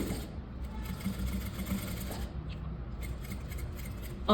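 Sewing machine stitching the lining of a velvet blouse, a steady continuous whir running throughout at close range, with a brief dip in the middle and no talking.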